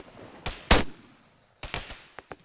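Gunshots in the video game Arma 3: a few sharp, separate reports come first, then a quick cluster of three or four shots, followed by two smaller cracks, all moderately loud with no talking.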